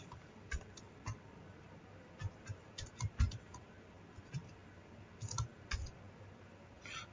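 Keystrokes on a computer keyboard while a Windows 11 PC is in use, heard as sparse, irregular light clicks and taps spread across the stretch, fairly close but soft, with no talking.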